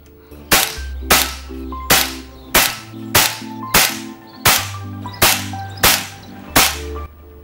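An air rifle fires Zan Projectiles slugs, about ten sharp, loud cracks at an even pace roughly two-thirds of a second apart, each followed by a short decaying tail.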